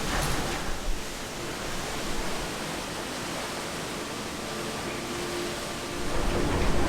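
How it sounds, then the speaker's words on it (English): Strong hurricane-season wind in Mexico roars in a continuous broadband rush, swelling slightly near the end, with no voices heard. "this wind is definitely picking up"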